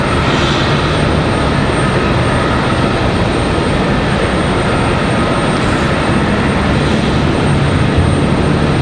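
A Sun Country airliner in classic livery, bound for Minneapolis, roars steadily at stormy Raleigh-Durham International Airport, its jet engines a loud, unbroken broadband rumble with no pauses.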